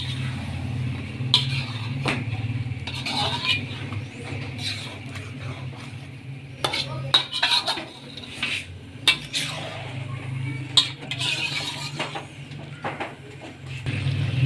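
Metal utensils scrape and clink against a chicken karahi pan as ground tomatoes are added and stirred in, an irregular run of close clatters over a steady low hum of cooking.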